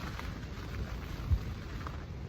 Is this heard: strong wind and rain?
yes